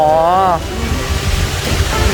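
Strong wind from an approaching storm roars steadily over an outdoor spot near water at a Thai buffalo conservation village in Suphanburi, loud and rushing close to the microphone, with a person talking briefly at the start.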